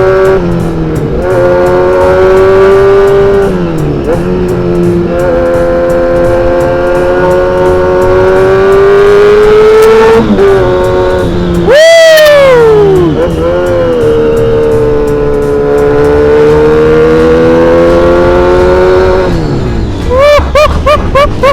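A Kawasaki Z800 motorcycle with a modified aftermarket exhaust is ridden on the road, its loud, close engine holding a steady drone with several rising revs and a sharp throttle blip midway.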